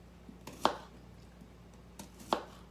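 Two distinct knife chops slicing a jalapeno into rings against a cutting board, spaced well apart, close and crisp over quiet background hum.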